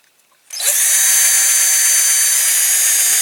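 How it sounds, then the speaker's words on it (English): A power drill starts up to drill out the rivets on a Dinky Trojan toy van. After a short silence it whines up to a loud, steady high-pitched run that holds to the end. "get the drill, and then we'll drill the base off"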